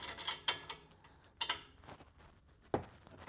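Someone tightens an exhaust fitting on a BMW E36 with a ratchet, making faint, close clicks and metallic taps in short irregular bursts with quiet pauses between them.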